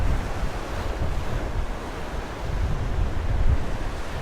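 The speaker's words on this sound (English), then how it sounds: "just thought I'd give you guys a view of the waves" Windblown waves from a tropical storm surge against the Chesapeake Bay shore at low tide, a continuous loud roar of surf mixed with gusty wind buffeting the microphone.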